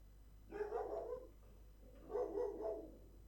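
A dog barks two short, muffled bursts indoors, a little distant and moderately loud, with a brief pause between them and no talking.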